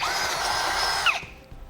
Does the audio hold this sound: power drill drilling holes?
yes